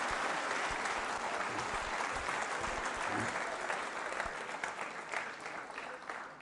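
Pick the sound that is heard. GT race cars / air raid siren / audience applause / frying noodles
audience applause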